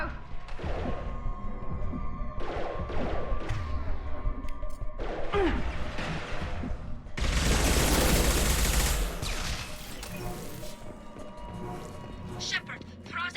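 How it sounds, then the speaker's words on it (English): Heavy sustained gunfire in the Mass Effect 2 video game, rapid bursts and weapon fire with a loud dense barrage in the middle, over a constant game soundscape. "Heavy fire."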